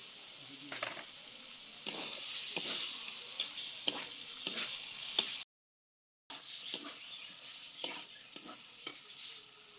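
Washed, cut meat sizzles and fries in a pan while being stirred, with a steady crackling hiss and repeated scraping stir strokes, close and clear, broken by a brief silent gap.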